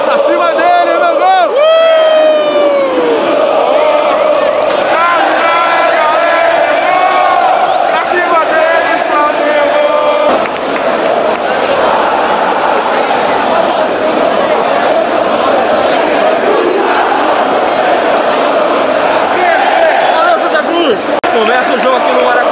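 Flamengo supporters packed into the stands at Maracanã for a Libertadores match against Barcelona, roaring and chanting nonstop in a dense, loud wall of crowd voices with whoops and shouts rising throughout.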